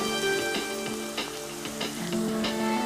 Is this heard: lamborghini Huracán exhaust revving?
no